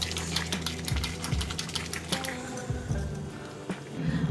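Boiled masoor dal and potatoes mashed by hand, giving repeated wet squishing and squelching sounds close up at a steady working pace, with no talking.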